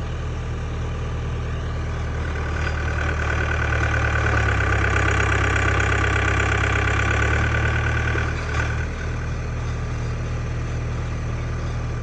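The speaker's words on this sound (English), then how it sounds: "We then dug two holes in the pond using the post hole digger attachment on our tractor." Tractor fitted with a post hole digger attachment, working at a pond, its engine running loud and close in a steady, rumbling idle with a broad mechanical roar and a small dip near the end.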